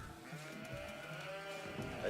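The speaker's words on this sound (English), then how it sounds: "got a whole bunch of sheeple" Sheep bleating in Age of Empires 4, a few short wavering calls over a soft game soundscape while a commentator talks over them.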